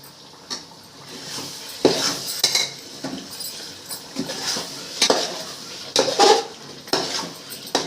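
Tomato chutney being stirred in a pan of hot oil, with a steady soft sizzle under repeated scraping and clinking of a utensil against the pot, close and moderately loud.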